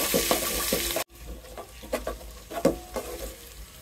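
Chopped ginger goes into hot spiced oil in a pan, making a loud hiss that cuts off abruptly, followed by quieter crackling and light scraping taps of stirring.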